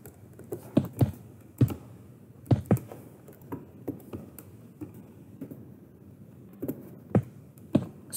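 Irregular, close clicking from a loud computer keyboard, typed in short bursts with pauses during a Minecraft creative building session, with no speech.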